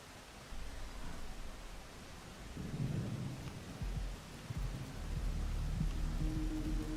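A thunderstorm with heavy rain in the video game Rain World, a dense continuous hiss of rainfall with low rumbling thunder swelling underneath, steady and enveloping without talk.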